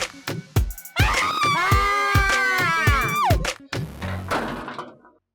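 A girl screams in a loud, sustained, wavering shriek that lasts about two seconds. It is framed by sharp thumps before it and a muffled, noisy tail after it.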